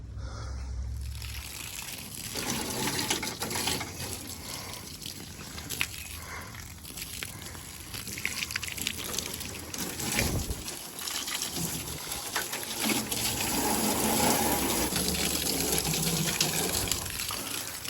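Water runs and splashes while rinsing out the stripped body of a BMW E30 coupe drift car, an uneven trickling and gushing flow with scattered splashes and knocks, fairly quiet and close throughout.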